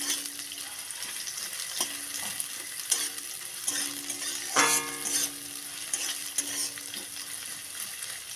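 Chopped onions frying in hot oil in a wok with black cumin and green chili give a steady crackling sizzle, close and clear, with intermittent stirring scrapes and a sharp clatter midway.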